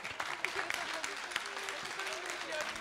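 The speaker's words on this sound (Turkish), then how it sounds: "Bütün yarışmacılarımıza sizlerden alkış rica ediyorum." An audience at a municipal music awards final in Kepez, Antalya applauds the competition contestants, a dense wash of clapping heard somewhat distant beneath a continuous voice.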